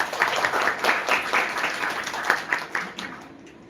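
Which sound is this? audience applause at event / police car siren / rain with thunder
audience applause at event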